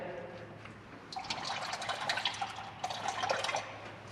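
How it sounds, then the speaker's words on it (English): Coolant trickles and drips from a partly drained radiator of a Chevrolet Nova SS, a quiet close splashing of liquid that grows busier midway with irregular drops and no talking. "oh, the radiator's not drained all the way yet"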